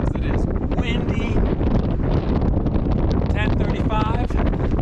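On Albert Mountain near the fire tower, heavy wind buffets the microphone in constant low rumbling gusts while a person talks over it.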